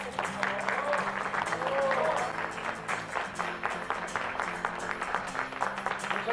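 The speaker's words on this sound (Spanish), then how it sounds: "Un aplauso." Applause at a school ceremony honoring a teacher, a steady mid-level patter of many hands clapping throughout, with faint crowd murmur beneath.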